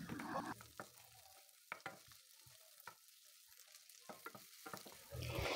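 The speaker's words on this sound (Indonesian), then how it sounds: "Pertama masukkan dulu bawang putih dan cabenya, ditumis sampai wangi." Garlic and chili stir-fried in a pan until fragrant, a soft sizzle broken by spatula scrapes and taps, quiet and close, swelling louder at the start and end.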